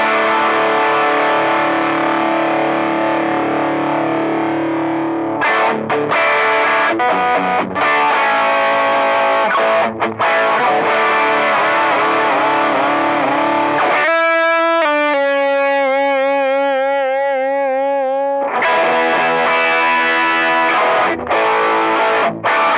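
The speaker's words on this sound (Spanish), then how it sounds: "Y después de eso vamos con el Angry Charlie, que es una distorsión." Electric guitar played through an Angry Charlie distortion pedal on a pedalboard, loud and continuous, with dense sustained chords, brief gaps between phrases and a cleaner held passage partway through.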